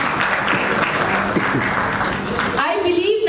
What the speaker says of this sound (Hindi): जोरदार तालियों के साथ अभिनंदन करते हुए.